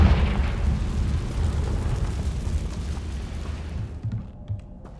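A Confringo fire spell explodes in Hogwarts Legacy, a loud sustained rumbling blast with heavy low booms that fade toward the end, followed by a few smaller pops.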